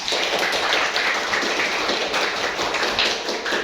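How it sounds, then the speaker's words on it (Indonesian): A classroom of students claps hands together in a dense, continuous patter of overlapping claps, loud and close, without talk. "tepuk tangan untuk semuanya"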